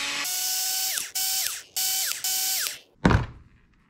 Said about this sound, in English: Undo these 4 screws.